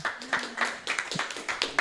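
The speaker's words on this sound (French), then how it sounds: "Applaudissements du public." Scattered audience clapping at a fighting game tournament top 8 match, a handful of distinct sharp claps in an uneven rhythm close by, with a faint voice underneath.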